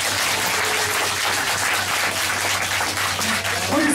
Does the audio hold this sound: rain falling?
no